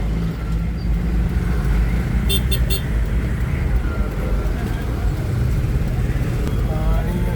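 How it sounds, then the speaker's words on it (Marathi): Road traffic jam by the Nasardi river bridge: a steady, loud rumble of idling and creeping vehicles, with a short burst of high horn-like beeps partway through. "आणि ट्रॅफिक जाम आहे तिथं"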